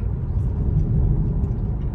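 Steady low road and cabin rumble comes from a Tesla driving on FSD Beta 9. It holds an even, continuous drone throughout with no voices.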